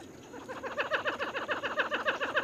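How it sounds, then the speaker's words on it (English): A Michigan marsh bird gives a fast, hyena-like laughing call, a rapid run of bright, chattering notes. The series repeats at a quick, steady pace and rises in loudness over a faint background. "that faster laugh, like a hyena laugh."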